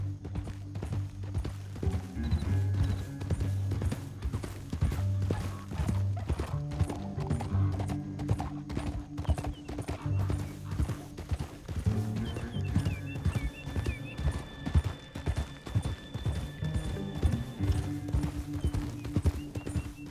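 Horses gallop with a steady clatter of hooves, occasionally whinnying, alongside mechanical clicking and ratcheting sounds throughout, in the video game Red Dead Redemption 2.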